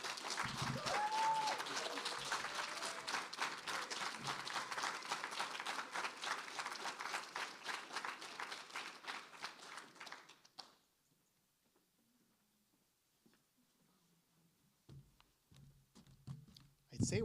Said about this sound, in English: Oh my God, more applause for Franny.